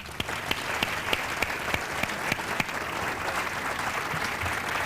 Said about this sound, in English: let's at least give, her applause, Tony and Andrea